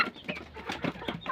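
Chickens cluck and peck close by in a quick, busy patter of soft sounds.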